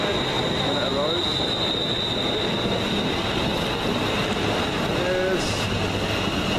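A passenger train pulls into a station at Penrith, a steady rumble of wheels and carriages with a faint squeal of wheels on rails, close by and continuous throughout.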